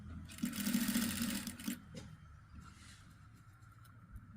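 A sewing machine runs in a steady, loud burst as it stitches the folded hem of a frock to its lining, then stops and leaves faint handling sounds and room noise with no talking.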